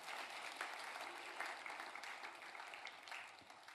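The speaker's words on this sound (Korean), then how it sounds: "박수 한번 쳐주시면 좋겠습니다" A church congregation applauding during a Sunday service, a steady, fairly faint patter of many hands clapping that holds evenly for several seconds and thins slightly at the end.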